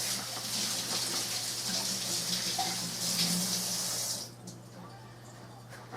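A kitchen tap runs steadily while hands are washed, a close, even hiss of water that lasts about four seconds and then cuts off, leaving a quiet room.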